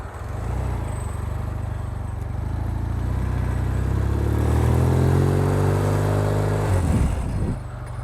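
A 1972 Norton Commando custom motorcycle engine runs loud and close, revving steadily as the rider shifts up into second gear, with the pitch climbing and then dropping at the change.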